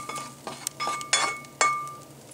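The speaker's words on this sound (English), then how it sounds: "Comes nicely out of the skillet onto the plate." Food slides out of a hot iron skillet onto a plate with a short run of sharp metallic clinks and scrapes, four or five distinct hits close by in quiet surroundings.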